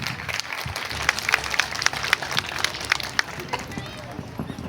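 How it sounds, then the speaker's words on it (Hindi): An audience of parents at a school annual day applauds, dense clapping across a hall with a lively murmur of voices underneath, steady and moderately loud throughout. "एक बार जोरदार तालियां हो जाए"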